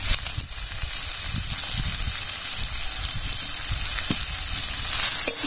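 Shrimp curry with fried potatoes sizzling loudly in a pan, giving a dense steady hiss close up with soft stirring thuds and scrapes beneath it, growing slightly louder at the end.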